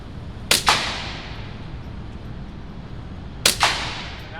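Two sharp suppressed .22 gunshots at an indoor range, about three seconds apart, each a crisp crack with a quick second slap echoing off the walls, fairly close and alone with no talk.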